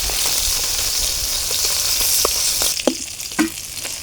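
Small pona fish from a canal fry in a pan with a continuous loud sizzle, and a few sharp clinks of a utensil stirring near the end.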